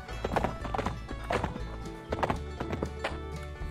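Rhythmic clip-clop of horse hooves trotting on a hard surface in the video game Survivalcraft 2, crisp and close, with a brief whinny mixed in.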